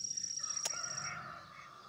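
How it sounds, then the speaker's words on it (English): White leghorn chickens on a farm, a brief high call and a short bird cry over a quiet hum, fairly faint and with no talking. "These little white chickens are prolific egg layers. It's a leghorn."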